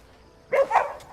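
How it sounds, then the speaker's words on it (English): A dog in the Crimson Desert video game gives two short, close barks while being petted, the second slightly drawn out, over a quiet background. "Let's pet the dog a few times."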